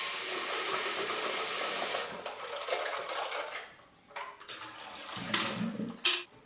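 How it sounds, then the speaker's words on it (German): Water gushes steadily from a tap as the water tank of a Bosch Vero Cup 100 coffee machine is rinsed, then gives way to splashing, sloshing and plastic handling noises nearby. "dass ich auch den Wasserbehälter hier einmal nochmal ausspüle und reinige"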